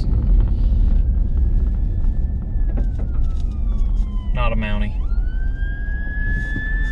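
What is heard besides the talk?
ambulance siren passing on the road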